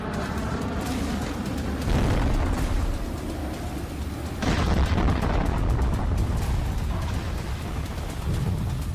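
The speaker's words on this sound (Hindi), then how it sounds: "धमाके हो रहे हैं।" Deep booming blasts, two strong bursts a few seconds apart over a continuous low roar and rumble, with no voices.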